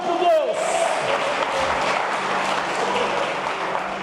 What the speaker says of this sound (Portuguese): Dê um aplauso a Jesus. Reconheça isso, aplaudindo mais forte.